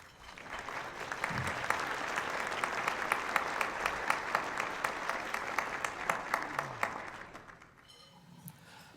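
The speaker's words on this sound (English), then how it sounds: "Why don't we have one final round of applause for all of these officials this evening?" A large audience applauds city officials at a State of the City event, steady dense clapping for about seven seconds before it tapers off and fades.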